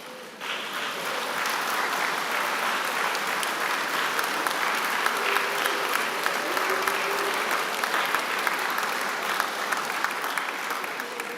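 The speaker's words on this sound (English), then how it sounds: "give them a huge round of applause" A large audience at a Birmingham university degree ceremony applauds in a hall, a dense, even roar of many hands clapping continuously and strongly for the whole stretch.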